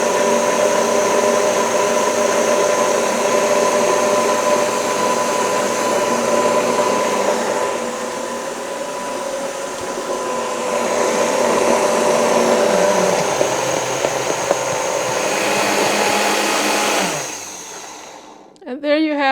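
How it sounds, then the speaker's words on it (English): A blender whirs steadily at a low speed for a long stretch while avocado oil is drizzled in to make mayonnaise, then winds down and cuts off near the end. "So I'll turn the blender on low"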